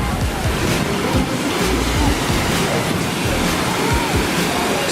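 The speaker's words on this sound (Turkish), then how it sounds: "Şelaleyi görelim." Waterfall in Abkhazia, a dense, continuous roar of rushing water that stays loud and steady throughout, with some gusty low wind noise mixed in.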